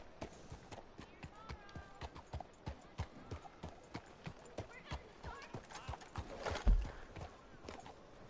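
Hooves of a horse in Red Dead Redemption 2 Online clip-clop in a steady rhythmic gait, close and fairly soft, with one brief louder thump near the end.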